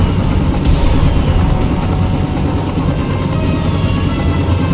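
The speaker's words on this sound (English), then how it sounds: "So this is the extraction chopper." An extraction helicopter in the video game Mercenaries: Playground of Destruction makes a loud, steady low rotor and engine drone that holds constant and close throughout, with no voices.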